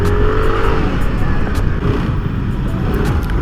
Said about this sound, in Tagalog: Nagdadragging yung motor ko.